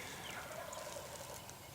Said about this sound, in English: I heard him gobble